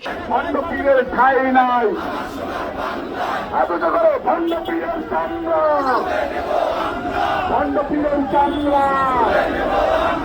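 Activists of BNP-linked groups in Bangladesh chant political slogans as a loud, massed crowd, with rhythmic shouted phrases repeating continuously and close by.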